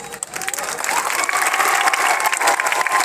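A crowd at a political rally applauds, with dense clapping that builds within the first second and then holds steady and loud, with faint crowd murmur underneath.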